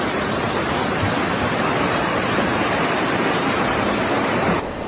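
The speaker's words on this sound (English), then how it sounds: "Absolutely incredible, the force of the water behind me." Loud, constant rushing floodwater roars like a powerful torrent as it pours under a dam wall through a channel, a dense unbroken wash of noise that cuts off abruptly at the end.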